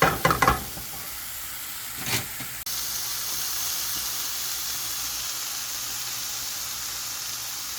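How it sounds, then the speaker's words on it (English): Mushrooms sauté on a stovetop, with a few quick knocks and clatters of utensils at first, then a steady, even sizzle and hiss of frying that continues alone. "I lower the stove just to get the mushroom to boil"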